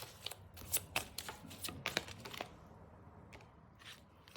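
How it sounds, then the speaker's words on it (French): Tarot cards are shuffled and one is drawn from the deck, a burst of close, crisp riffling and card snaps followed by a few softer slides, with no voices. "Je vais quand même retirer une carte ici."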